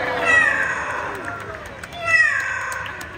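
A parrot at a bird park in Singapore imitates a cat's meow, giving two drawn-out, wavering meow-like calls over background crowd noise.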